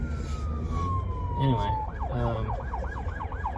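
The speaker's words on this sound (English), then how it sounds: "Oh hell, an ambulance is coming." Ambulance siren passing on the road, a falling wail shifting into fast rising-and-falling yelps, fairly close and loud under road noise from the listener's car, with someone speaking briefly.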